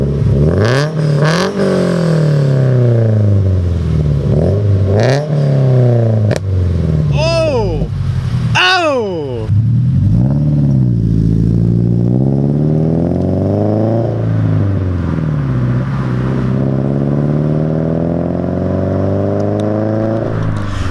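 A Subaru BRZ with a louder exhaust revs repeatedly, rising and falling in loud close pulls, with one sharp high rev burst midway and voices exclaiming over the engine.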